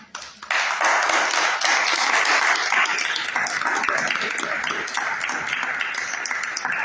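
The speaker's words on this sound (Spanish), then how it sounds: "Un fuerte aplauso a nuestro Señor Jesucristo." Congregation applause during a church sermon, a strong, continuous burst of many hands clapping that starts abruptly and holds steady for several seconds, tapering only slightly.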